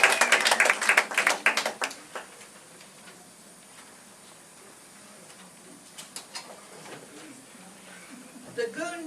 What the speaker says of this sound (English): Let's have a round of applause for the guy.